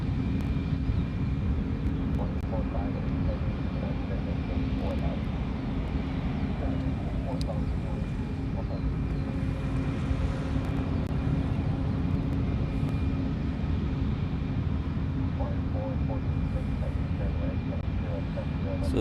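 A jet taking off from Honolulu airport roars with steady, broadband engine thrust at a moderate distance, continuous throughout while a person talks over it.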